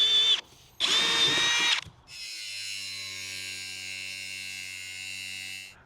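A power drill fitted with a step bit bores through metal on a navy barge houseboat build, two loud grinding bursts with a short pause between, then a steady lower mechanical hum as it winds down.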